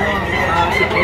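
Chickens at a livestock auction market in Lipa City: dense clucking and crowing from many birds close by, with a voice talking over the steady flock noise.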